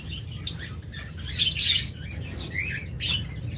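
Diamond doves in an aviary chirp in short, high calls, several in a row, with one brighter burst in the middle over a low steady background hum.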